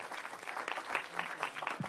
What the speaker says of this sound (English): How about a big round of applause for Valerie?